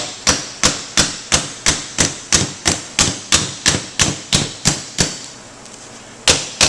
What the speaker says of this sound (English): pick up your hammer and just gently, you don't have to manhandle this stuff